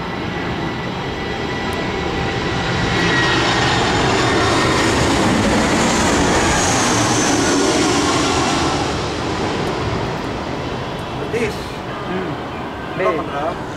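Airplane passing overhead on a music video set, a broad loud roar swelling through the middle and slowly fading, steady and continuous, with no clear talk over it.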